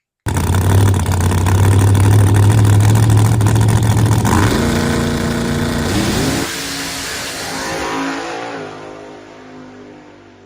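A car with compressed air supercharging revs hard and loud against the converter, building boost on a two-step before pulling away, the engine note dropping and fading over several seconds.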